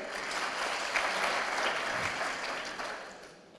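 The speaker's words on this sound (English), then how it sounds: "So I would like to applaud the audience for being here today." An audience at a community gathering applauds, a dense, steady wash of clapping that holds for a few seconds and then fades.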